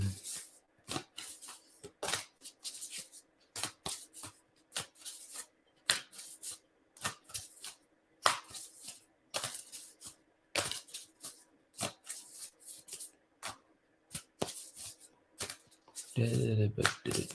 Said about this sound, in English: So I'm gonna really shuffle this deck pretty good